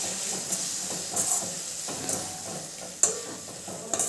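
Boiled green peas are stirred in a frying pan with tomatoes for a Gujarati panchkutiyu vegetable dish, producing a steady sizzle with repeated scraping strokes and occasional sharp clinks of the spoon.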